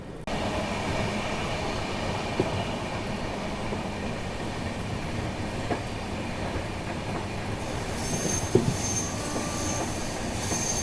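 A train rolls along the Chennai–Bengaluru main line below, a steady loud rumble of wheels on rails with faint clicks and a rising screech near the end.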